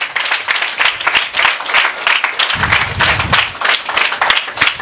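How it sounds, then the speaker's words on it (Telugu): Congregation clapping for the Lord at a Sunday church service, a dense sustained burst of applause filling the room, fairly loud and steady throughout with a low thump partway through. "Just give claps to the lord."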